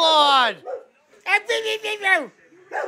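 A dog gives drawn-out, whining bark-like cries that slide down in pitch, mixed with excited human voices talking and exclaiming close by.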